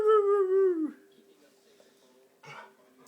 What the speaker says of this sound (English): Dog fight. It's gonna be good.